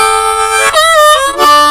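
A blues lick on a D harmonica played tongue-blocked, loud and close: a sustained reedy chord that bends upward into a wavering, vibrato-rich note, then breaks into a final held tone.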